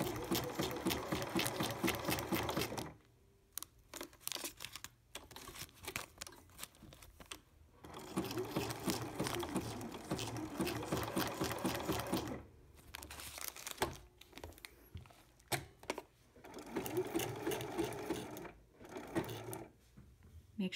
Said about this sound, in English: then you can raise your presser foot and pivot and start sewing in the other direction.